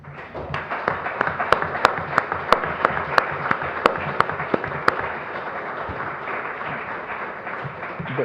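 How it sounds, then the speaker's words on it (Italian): Audience applause after a book presentation on San Marco in Venice, dense clapping from a crowd with a few sharper, louder claps standing out near the front, continuing steadily and tapering slightly toward the end. "Un applauso a Wolters per questa"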